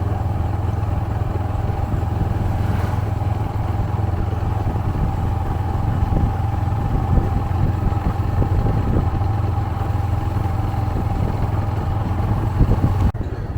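A motorcycle engine runs steadily on a ride through a village in Bihar, a close, continuous hum with light rattling from the road and no talk.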